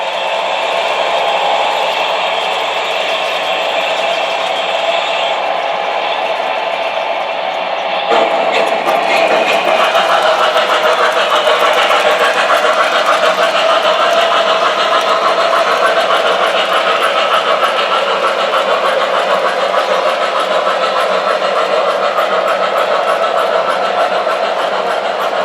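Steady electric hum and whirring of an MTH model F3 diesel locomotive running on a small layout loop, loud and close. The sound swells slightly partway through and holds constant, with no voices.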